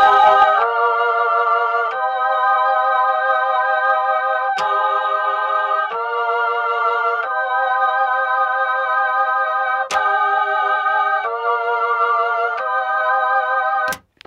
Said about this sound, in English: we used instead the Chamberlain solo female voices, which sound like this.